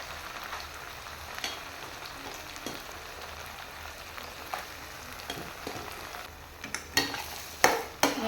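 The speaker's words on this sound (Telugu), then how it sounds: "దీన్ని మంచిగా ఆయిల్లో కలిసేటట్టు మంచిగా కలుపుకోవాలండి ఫ్రై కానివ్వాలి" Mashed boiled potato paste is stirred in hot oil in a pan, giving a steady sizzle with scraping stirs that grow louder and sharper toward the end.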